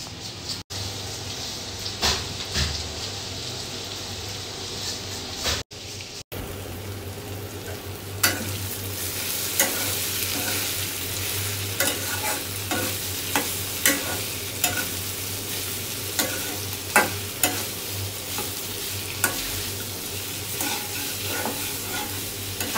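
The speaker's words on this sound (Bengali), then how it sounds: "তো ভাজি বসাই দিছে" Vegetable bhaji frying in a home kitchen pan, sizzling steadily while a spatula stirs and scrapes it in repeated sharp clacks, close and continuous with no talk over it.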